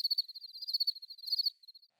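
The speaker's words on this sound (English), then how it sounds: "only to hear crickets" A cricket sound effect: a steady run of high, fast chirps, close and clear against total silence, fading out near the end.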